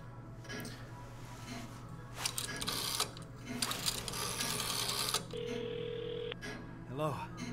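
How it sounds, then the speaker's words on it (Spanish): Telephone ringing inside the horror video game White Night, a steady electronic ring tone among game ambience with someone talking over it throughout. "Un teléfono ahí."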